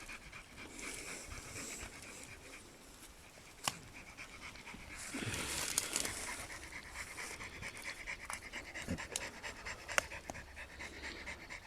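A dog pants heavily and steadily up close, rapid rhythmic breaths with a couple of sharp clicks, no talking.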